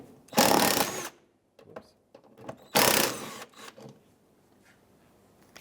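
An 8mm bolt being removed from the inner fender liner of a 2008-2010 Ford F-250 Super Duty, two loud bursts of power-tool whirring, each about a second long, separated by small clicks and handling noises, close by.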